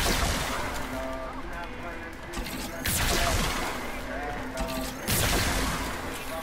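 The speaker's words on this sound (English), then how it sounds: "That laser gun." A laser gun in Warframe fires in bursts, with sharp sweeping blasts near three and five seconds over a noisy game background and a voice talking.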